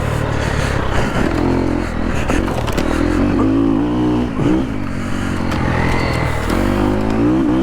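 A Triumph TF250E dirt bike revs hard while being ridden through tight, technical Australian bush, its engine rising and falling with quick shifts, loud and close, with rattles and scrapes from the terrain.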